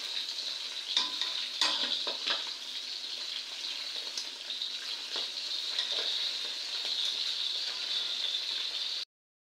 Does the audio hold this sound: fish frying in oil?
yes